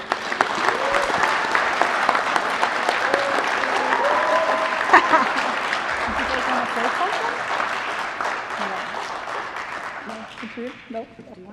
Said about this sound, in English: So please offer Katrina and Becky a round of applause for their combined 58 years of teaching at Dowagiac Union Schools